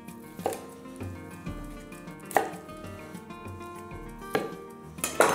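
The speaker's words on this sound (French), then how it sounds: "On le coupe simplement en 4." A knife chops through a cabbage into quarters on a board, giving four or five distinct thuds about a second apart over a soft tonal background.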